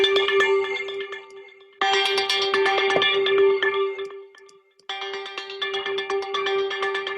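A synthesized bell patch from Omnisphere rings out in bright shimmering clusters over a steady sustained tone, with two dense bursts separated by a brief quieter gap, played alone.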